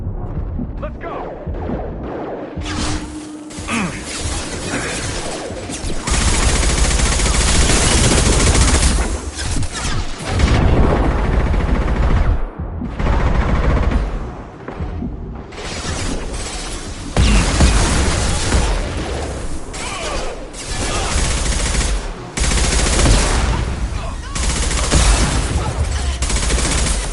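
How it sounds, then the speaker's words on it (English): High-impact gunshots fire in the shooter game Mass Effect 2: loud, heavy bursts of rapid fire in repeated volleys with booming impacts, and game voices talking between the shots. "Firing a high-impact shot!"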